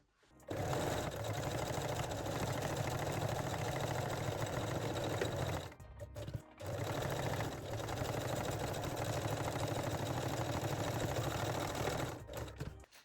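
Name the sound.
sewing machine sewing small zigzag stitch on bra edges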